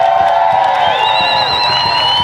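A crowd at an outdoor rally for Derek Sloan in Barrie, Ontario cheers, whoops and applauds loudly, a continuous dense roar with high whistles rising over it.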